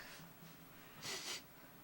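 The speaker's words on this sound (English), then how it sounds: "And look inside and sniff." Someone sniffs at spices inside a tiny box, a couple of soft nasal inhales followed by one stronger, breathy sniff, close and quiet with no talking.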